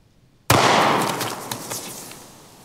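One sharp gunshot from a LifeCard .22 WMR pistol cracks out after a short quiet moment and then fades away through a long, rough echo.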